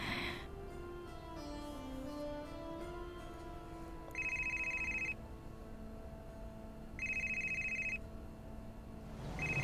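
A telephone rings twice with bright, electronic repeating tones, each burst lasting about a second, over soft background music during a scene where a call is about to be placed.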